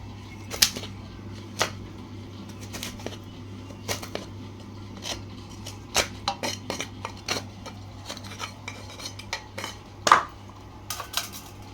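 A coconut scraper grates coconut halves, giving sharp intermittent scraping strokes in irregular bursts over a low steady hum, close by with no talking.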